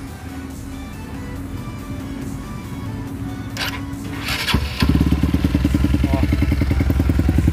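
Honda Titan 150 motorcycle with the muffler fitted, heard starting with a clatter and then settling into a loud, close, pulsing idle, after a brief spoken word and a lower steady engine tone earlier.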